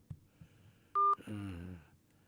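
A single short telephone dialing tone, clean and steady, heard during a radio call-in programme, with faint background clicks before it and a voice speaking right after.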